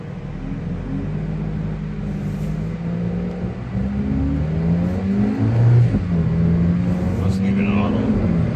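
A 2017 Alfa Romeo 4C supercar engine on a test drive, a steady low drone that swells as it gradually accelerates through gear changes, with a person talking over it throughout.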